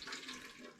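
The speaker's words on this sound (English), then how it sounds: "you pour a few ounces into the bucket that we talked about" Minwax furniture refinisher is poured into a bucket, making a close, steady liquid splash and gurgle that lasts under a second.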